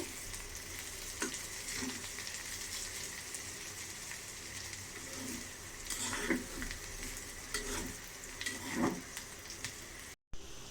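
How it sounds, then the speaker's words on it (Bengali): Sliced bitter gourd sizzles steadily in a frying pan while a utensil stirs it now and then, producing soft scraping clacks over the continuous close hiss of frying. "ভাজা ভাজা হয়ে যাচ্ছে।"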